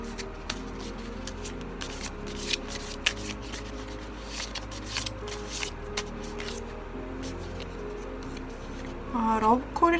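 Tarot cards being shuffled and handled on a table, a series of soft crisp riffles and flicks close by, with quiet speech near the end.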